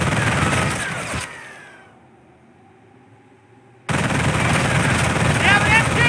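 Machine-gun fire rattles in the Company of Heroes PC war game. Loud, dense bursts of gunfire open the sequence, fade into a quieter gap, then return suddenly as heavy sustained fire.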